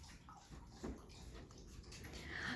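A puppy lapping water from a bowl, soft wet slurping and splashing nearby, steady and continuous.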